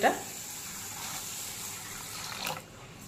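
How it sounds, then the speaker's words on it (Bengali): Gobindobhog rice being rinsed in water, with a soft continuous wash of swirling, trickling water and a couple of brief splashy bursts, one at the start and another near the end. "তো এখানে আমি গোবিন্দভোগ চাল নিয়েছি। তো এবার সুন্দর মতো এটাকে ধুয়ে নেব"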